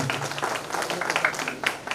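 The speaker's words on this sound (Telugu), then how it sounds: "పుట్టుబాబు ఒకసారి చప్పట్లు పెట్టాలి మనమందరం" Audience clapping at a Telugu song competition event, steady, dense applause from a crowd filling the whole moment with no clear talk over it.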